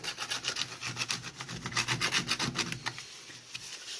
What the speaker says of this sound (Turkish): benim elimde kullandığım zımpara kalın bir zımpara.